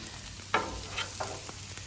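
Broccoli hits a hot pan of chicken and pork fried rice, sizzling steadily up close while a utensil stirs and scrapes in a few short strokes.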